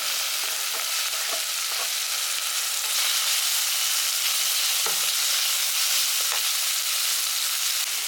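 Capsicum sautés in a hot pan with tomatoes for vegetable biryani, giving a steady, loud sizzle. A few faint clicks of stirring sound now and then, with no voices.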